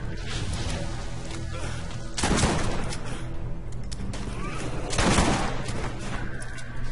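Rapid video-game gunfire from Borderlands crackles throughout, with dense bursts of shots rising in two louder volleys amid busy game effects and music, no talk over it.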